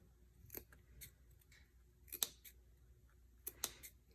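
Sharp scissors snip cotton fabric around the curves of a Simplicity S9188 face mask, giving several crisp, quiet cuts spaced irregularly in a calm room with no talking.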